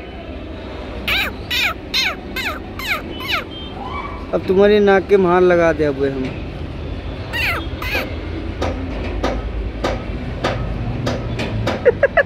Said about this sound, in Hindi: वो कौवे मेरे काले कौवे